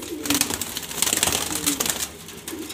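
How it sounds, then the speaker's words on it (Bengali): Grizzle pigeons, male and female, coo close by in low repeated throaty rolls. A soft airy background runs under the calls. "এখানে সব বাছাই করা গ্রিজেল কবুতর নর মাদি"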